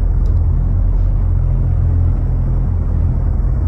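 IndyCar race cars circulate at Pocono Raceway during a 500-mile race, a loud, unbroken deep engine roar and rumble that fills the whole moment without any speech.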